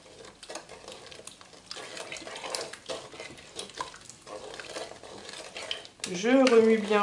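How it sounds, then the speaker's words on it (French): Pear jam mixture with vanilla powder is stirred in a Cookeo electric pot, soft scraping and spoon knocks against the pot, with a voice speaking briefly near the end. "Je remue bien toute la préparation."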